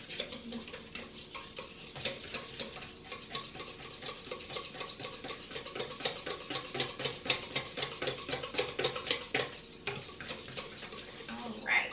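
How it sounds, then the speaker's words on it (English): Butter worked together with wet ingredients in a bowl for cookie dough, a steady close scraping and stirring with a rapid repeated rhythm and small clinks of utensil against the bowl, moderately quiet throughout. "you're going to mix that all together and get that all softened and smoothed out"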